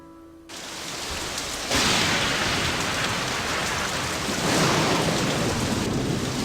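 Stormy San Francisco rain in the Nancy Drew game Message in a Haunted Mansion, a steady hiss of heavy rainfall that surges louder after a quiet start, with low rumbling thunder swells and no talking.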